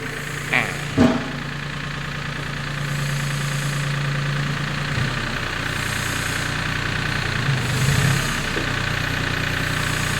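A Yanmar EF352T tractor's diesel engine runs at a steady idle, a continuous low throbbing hum with a couple of brief clunks near the start and a faint knocking rhythm underneath.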